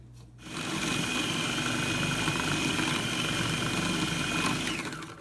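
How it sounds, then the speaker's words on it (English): A blender whirs steadily and loudly on frozen bananas, turning them into soft-serve style nice cream, its motor drone holding even for several seconds with no one talking. "the next stage of blending is going to really transform the bananas more into an ice cream"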